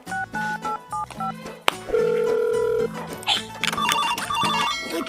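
A telephone plays a loud melodic ringtone, bursts of electronic tones in short repeated phrases followed by a sustained note and a rapid chiming pattern.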